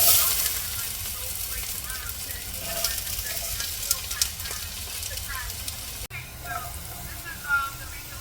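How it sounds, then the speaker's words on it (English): Onions frying in extra virgin olive oil in a single pot for chili, giving a steady soft sizzle and hiss with faint stirring sounds, while a voice talks over it. "Just gonna add your onions in."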